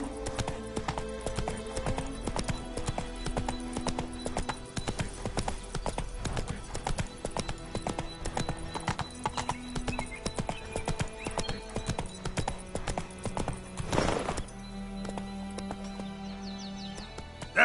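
Horse galloping in The Witcher 3: Wild Hunt, a steady rapid drumming of hooves, loud and close, breaking briefly near the end.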